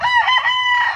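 A rooster crows loudly and close, one long strained call held for about a second with no other sounds.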